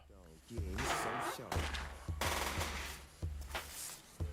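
Rapid gunfire bursts from the trailer for the canceled GTA-style game Fear & Respect, loud and repeated in clustered volleys with short gaps, under a busy mix of voices talking.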